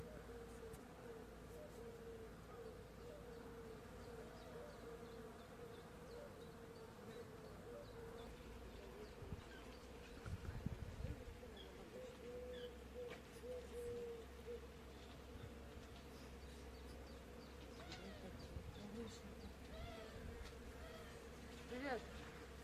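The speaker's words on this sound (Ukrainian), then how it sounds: "І ось ззаду мене ялина, яка гуде, наче вулик, можете почути." A soft, steady buzz of many bees hums from a spruce tree, constant and fairly faint, with occasional louder passes nearby.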